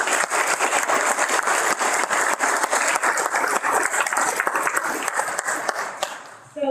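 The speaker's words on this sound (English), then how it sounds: "Let's give them a round of applause." Audience at a Manufacturing Day career event claps in a dense, loud round of applause that runs on steadily, then thins and fades near the end.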